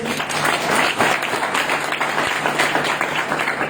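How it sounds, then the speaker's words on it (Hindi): Audience at a company training session clapping in sustained, dense applause, many hands together, loud and close, continuing evenly throughout. "क्लैपिंग करना है, ताली बजाना है"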